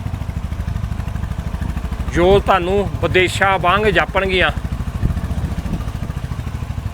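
A motorcycle rides through village lanes, its low, steady engine drone running close and continuous beneath someone talking over it.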